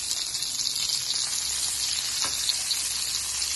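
Cajun salmon fries in olive oil, giving a loud, steady, close-up sizzle that holds without a break and has no voices over it.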